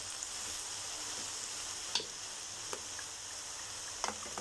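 Potatoes and vegetables fry in a pan with soy sauce, giving a steady close sizzle throughout with a few faint clinks of stirring.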